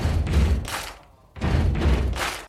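A voice imitates kick drum thumps, two quick groups of three heavy beats separated by a short pause.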